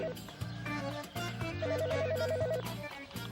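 A telephone rings with a repeated electronic ringtone in a Turkish home setting, sounding steadily across the clip alongside background music and room noise.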